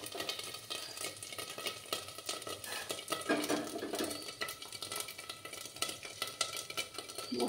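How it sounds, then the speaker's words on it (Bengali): A spice mixture is stirred in a pan while cooking, with soft repetitive scraping and clinking of the utensil over a low background sizzle, close and fairly quiet. "মশলাটা গুলে নিচ্ছি আমি।"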